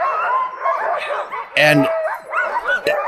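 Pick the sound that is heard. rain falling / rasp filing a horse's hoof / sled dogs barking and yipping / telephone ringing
sled dogs barking and yipping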